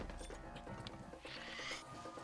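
A horse in a Zelda video game gives a short whinny and snorting sounds with light hoof-like clops, close and clear over faint game music.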